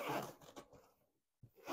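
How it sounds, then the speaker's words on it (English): A zipper on the back of a Halloween costume is pulled up in two quick rasping strokes separated by a brief pause, close and clear, with no talking. "we can just zip up the back right here"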